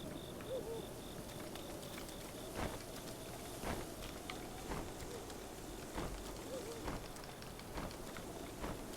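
Steady rainfall in The Legend of Zelda: Breath of the Wild, a soft continuous patter with scattered sharper drop hits and faint game ambience, no voices.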